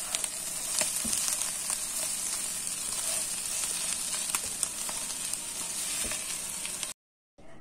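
A salted filling for a lavash roll sizzling and being stirred in a frying pan, steady close hiss with scattered clicks of the spoon, then a sudden cut to silence near the end.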